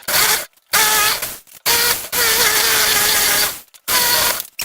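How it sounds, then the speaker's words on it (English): A power tool runs loudly in several bursts while carving a maple wood kuksa cup, starting and stopping with brief pauses between each whirring run. "Not opposed to using power tools."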